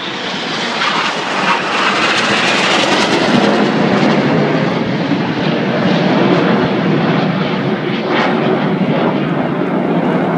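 Red Arrows jets roar overhead in close formation during the Twister manoeuvre at the 2013 Torquay air display, a loud, sustained, rushing engine noise that holds steady and full throughout.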